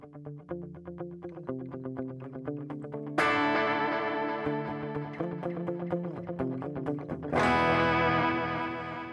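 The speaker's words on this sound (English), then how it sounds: "That's the modulation." An electric guitar runs through a NUX Core pedal's modulation effect, picked notes wavering with a chorus-like shimmer, and two bright strummed chords ring out loud with long sustain between faster single-note passages.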